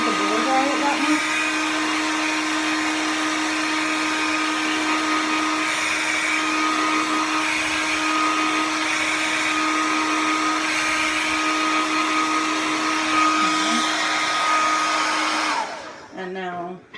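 A hair dryer blows with a steady, loud whirring drone and a constant hum, then switches off just before the end.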